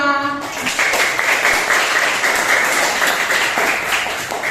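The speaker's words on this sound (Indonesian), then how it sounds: "Tepuk tangan untuk kita semua." Classroom applause from a group of students, dense and continuous clapping that starts after a brief tone and holds at a steady, fairly loud level throughout.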